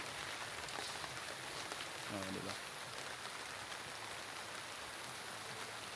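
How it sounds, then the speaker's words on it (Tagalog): Steady rain falling on a banana farm in the provinces, a continuous hiss of drops on leaves and ground, with someone talking briefly over it. "Umuulan na nga"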